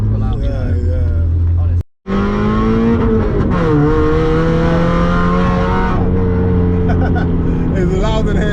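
Loud, steady engine drone of a Mk1 Mazda MX5 heard from inside the cabin, with pitch rising and falling as revs change and a brief gap, while people talk over it.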